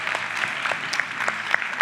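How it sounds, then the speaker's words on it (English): Audience members at a teen pageant finale applaud in a short burst of dense, close clapping with a few louder individual claps standing out. "a round of applause, please."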